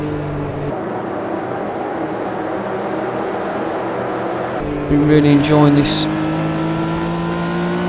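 A Porsche 911 RSR 3.0 racing in Automobilista 2 at the 1970s Red Bull Ring, its engine droning at high revs through a quick section, briefly surging louder on a gear change, with someone talking over it throughout.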